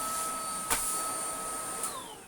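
A Numatic NBV190 cordless vacuum cleaner runs on low power, giving a steady close whine with a bright high tone throughout and two brief bumps where the pitch shifts.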